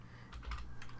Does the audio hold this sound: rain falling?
no